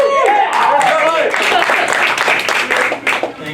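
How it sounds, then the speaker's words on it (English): A studio audience claps for a graduation-show host right after he introduces himself, a dense burst of applause mixed with cheering and voices that stays steady before thinning out at the end. "that's the first time I've had a clap for my name"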